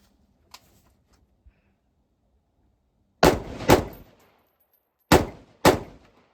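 Four loud, sharp rifle shots from a Ruger SFAR .308 fired outdoors, in two close pairs a second and a half apart, each with a brief ringing tail, after a couple of faint small clicks.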